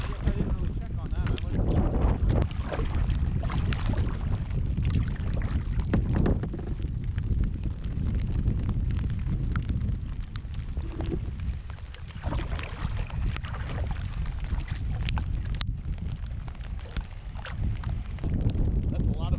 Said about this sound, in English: That's a lot of open wind tunneling right now.